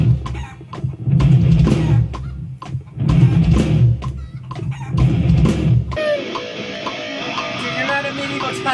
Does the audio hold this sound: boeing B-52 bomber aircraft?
no